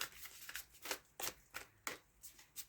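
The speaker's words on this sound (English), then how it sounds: "while I'm shuffling" A deck of cards is shuffled during a tarot reading, a quiet close run of about ten crisp riffling bursts in an uneven rhythm, with no talking.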